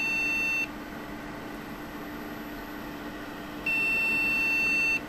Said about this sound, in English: It's actually giving a beep code error for no RAM installed.